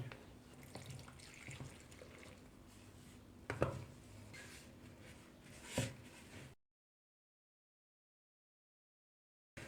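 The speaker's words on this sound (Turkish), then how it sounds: "Şimdi hemen üzerine aktifleşmesi için bir kenara bıraktığım mayalı suyumu ekleyeceğim." Yeasted water is poured onto flour for homemade bread dough, a soft trickling splash with a couple of sharper knocks, fairly faint and close, ending in silence.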